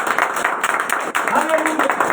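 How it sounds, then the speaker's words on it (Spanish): A church congregation applauds, a steady wash of many hands clapping with crowd voices mixed in, close and fairly loud throughout the short stretch. "Ahora es aplauso para el Señor."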